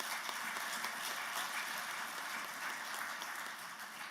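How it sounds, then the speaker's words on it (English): Conference audience clapping at the EAMJA annual conference after the announcement of the next meeting in Rwanda, a faint, distant, steady patter of many hands continuing evenly throughout with no voices. "I think you are clapping for an announcement"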